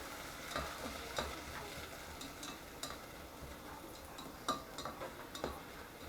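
A heavy tablespoon of chopped garlic sizzles and crackles softly in a pan while cooking Thai coconut shrimp soup, with scattered ticks and clinks of stirring over a steady low frying hiss.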